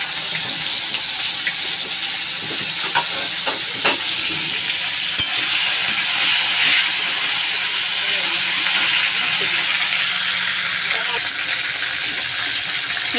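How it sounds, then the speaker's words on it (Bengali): Prawns frying in hot oil in a pan in a home kitchen, giving a steady, close, dense sizzle that runs throughout, with a few brief clinks and stirring knocks. "তেল গরম হয়ে গেছে, দিয়ে দিই।"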